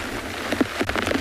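Rain falling during an evening safari drive on a southern African reserve, a steady close patter with scattered heavier drops striking a surface, no voices.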